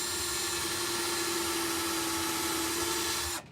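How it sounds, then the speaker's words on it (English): Power drill with a bit boring a hole, a steady high-pitched whine held for about three and a half seconds, loud and close, then cutting off abruptly at the end. "drill a hole"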